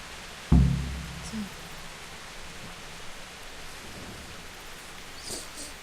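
Steady rain falls in the medieval game Kingdom Come: Deliverance, a soft continuous hiss with a sharp low thump near the start and faint distant rumbles.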